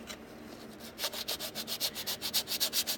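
A sander works over dried, rough body filler on a hard body repair, giving a steady rasping scrape that turns into regular rhythmic strokes, loud and close with no talking.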